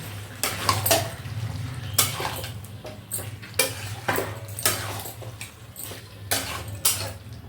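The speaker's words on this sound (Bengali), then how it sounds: "এবারে আবার একটু ঢাকাটা খুলে আর আবার একটু নাড়াচাড়া দেবো" Chicken rezala is stirred in a pan after the lid comes off, with sharp metallic clanks and scrapes of a spoon against the pot repeating irregularly over a low background hum.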